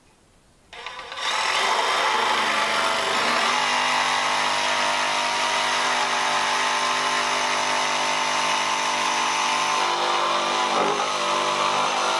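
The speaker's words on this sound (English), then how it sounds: "I can still rectify it, and pretty easily with a jigsaw." Jigsaw cutting through floor boards during off-grid floor construction, starting with a quiet lead-in then a sudden onset of a loud, steady buzzing motor whine that runs continuously close to the listener for about eleven seconds.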